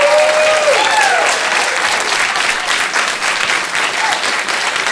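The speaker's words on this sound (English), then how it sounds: "can we just give a round of applause for Morten?" Loud, sustained audience applause at a tech talk about AI agents, steady clapping with a couple of whistles near the start, continuing for several seconds without talk.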